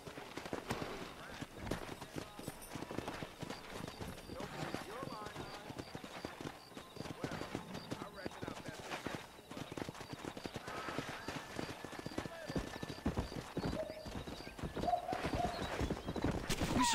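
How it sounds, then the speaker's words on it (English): Wild horses gallop in the Red Dead Redemption video game, with rapid clip-clop hoofbeats running throughout and occasional whinnies, under game speech and sound effects. "there's a pack of wild horses nearby."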